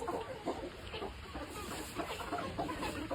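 Chickens cluck in a steady, busy stream of short calls over a constant background hiss, fairly close and moderately loud.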